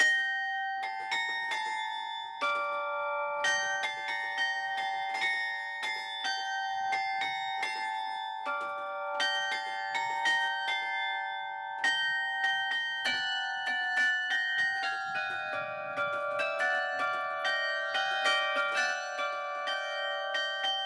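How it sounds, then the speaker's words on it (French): An 18-bell carillon struck with the fists rings out in a continuous, bright peal of overlapping chimes, notes sustaining and layering into a dense, crystalline melody throughout. "Un son cristallin unique grâce aux 18 cloches du carillon."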